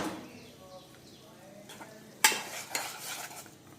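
Roasted rice flour is mixed with hot water in a bowl, with soft stirring and a sharp clink of a utensil against the dish midway, followed by quieter scraping; close and fairly quiet.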